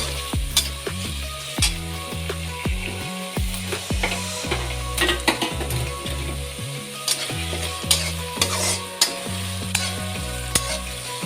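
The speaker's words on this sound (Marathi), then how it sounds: "कांदा चांगला लालसर होईपर्यंत आपल्याला भाजून घ्यायचा आहे।" Chopped onion frying with ridge gourd in a pan for a Maharashtrian vegetable dish, with steady sizzling and repeated clanking stirs of a spatula against the pan, close and loud with no talk.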